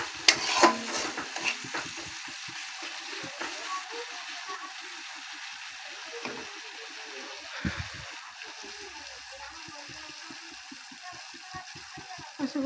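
Spice paste stirred and fried in hot oil for Bengali tel koi fish curry, giving a steady close sizzle broken by repeated scraping spoon strokes against the pan, with a louder clatter near the start; no talking.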